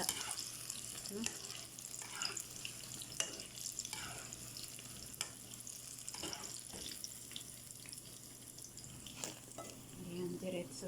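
Ground meat frying in a pan, a constant close sizzle broken by repeated scraping stirs of a spatula, with faint background voices.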